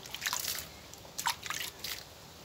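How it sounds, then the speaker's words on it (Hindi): Water poured onto a potted aglaonema cutting setup, giving a few soft splashing, dripping bursts close by with short pauses between pours. "ऐसे पानी दे देंगे"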